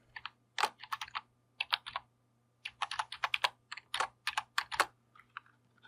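Keystrokes clatter on a computer keyboard as a function for statistical calculations is typed, with quick bursts of clicks separated by brief pauses over a steady low hum, close and moderately loud with no speech.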